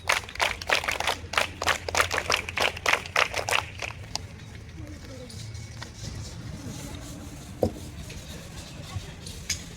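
Rhythmic, evenly spaced hand claps ring out loud and close at a Bharat Scout and Guide Flag Day ceremony, about ten sharp strokes over four seconds before giving way to quiet room noise and a faint voice.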